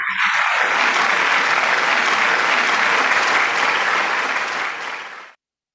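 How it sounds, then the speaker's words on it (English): An audience claps in sustained, dense applause at a world parliament of science, religion and philosophy gathering, welcoming a speaker to the stage; the applause runs steadily for about five seconds, then fades and cuts off. "With a big round of applause, let's welcome Mr. Shraddhanand Sheetalji."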